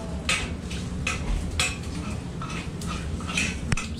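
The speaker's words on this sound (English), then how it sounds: "Somebody's making eggs right now." Someone cooking eggs in a shared hostel kitchen in Amsterdam, with repeated sharp clinks of cutlery against pans and dishes over a low background hum, moderately close, no talk.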